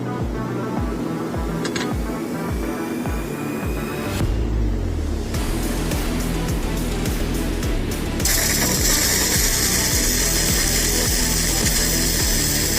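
Laser welding of 10 mm pure copper in a single pass with no preheat: a loud, steady mechanical whir and ratcheting hum that shifts partway through into a harsh, bright hiss which holds to the end, with no talking.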